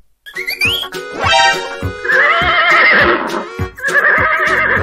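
Horse neighing in a children's phonics song: a loud, close whinny with high wavering pitch, repeated in two or three bursts with a faint clip-clop between them.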